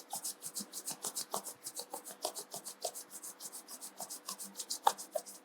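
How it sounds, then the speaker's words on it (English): Two palms rubbed briskly together during a yoga therapy session make a rhythmic, dry swishing friction, about three strokes a second, close and fairly soft with no talking. "Rub your palm."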